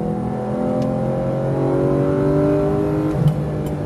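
A Porsche GT3 RS accelerates on a race track, its engine a steady, loud, close drone that rises gradually in pitch, heard alone without talk.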